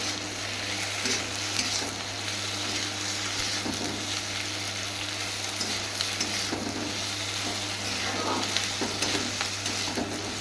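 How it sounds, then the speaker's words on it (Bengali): Spice paste being sautéed with pointed gourd (potol) in a pan, a close, steady sizzle of frying with soft scraping and stirring strokes running throughout, with a constant low hum underneath. "এইভাবে মশলাটা কষানো হয়ে যাবে পটলটার সঙ্গে"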